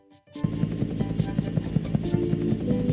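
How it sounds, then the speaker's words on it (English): Harold the helicopter from a Thomas & Friends video game flies with a steady, close rotor drone and a regular chopping pulse, starting abruptly after a short quiet moment and continuing unbroken. "Fly Harold the helicopter to find him."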